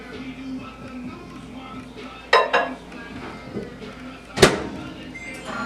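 Utensil stirring and scraping food in a pan during meal prep, with two sharp clanks of metal on cookware standing out over a background hum and low murmur.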